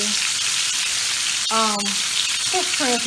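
Vegetables sautéing in a pan, a loud continuous sizzle close up, with a voice speaking briefly over it.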